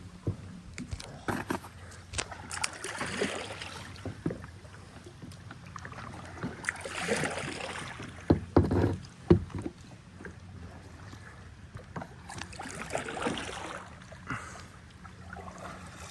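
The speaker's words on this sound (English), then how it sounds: "Steering and paddling and recording and trying to maneuver these turns in trees." Kayak paddling on the Weeki Wachee River among overhanging trees: soft, irregular paddle splashes and water swishes, fairly close, with a few louder knocks midway and a brief burst of dripping water, no talk.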